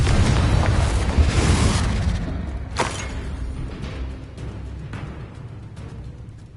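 A Confringo blasting spell from Harry Potter goes off as a loud, rumbling explosion that opens the clip and fades slowly, with a sharp burst near the middle and a lingering roar trailing behind it.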